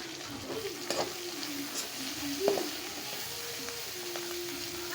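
Onions with green chili and a pinch of turmeric frying in a pan, a soft low sizzle with occasional stirring scrapes and a brief clink near the middle, fairly quiet and close.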